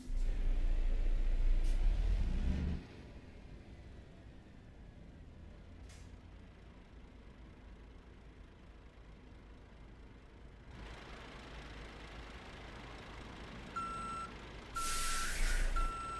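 Truck in Euro Truck Simulator 2 with a shifting fault: a loud low engine rumble for the first few seconds, a quieter stretch of idle hum, then rising noise with a hiss and steady repeated reversing beeps near the end.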